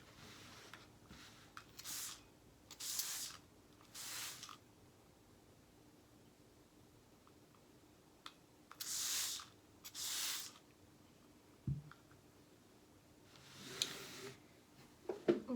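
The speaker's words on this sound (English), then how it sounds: "so I have my spray bottle filled with a little bit of water" A handheld spray bottle filled with water mists a folded, marker-colored coffee filter in a string of short, sharp hissing spritzes, some of them coming in quick pairs, close by with quiet gaps between them.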